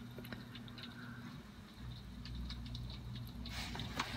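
Hail falls at night in a faint, scattered patter of small ticks and taps over a low background hum, with no talking.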